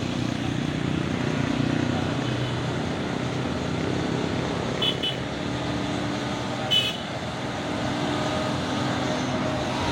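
A Putra Samosir box truck drives past with a loud, steady engine rumble and road roar that fills the whole stretch without a break.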